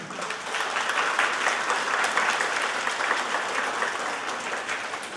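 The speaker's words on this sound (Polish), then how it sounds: "Brawa dla nich!" Audience at a school Grandparents' Day celebration bursts into loud, sustained clapping for the grandmothers and grandfathers, a thick, continuous roar of many hands held steady throughout.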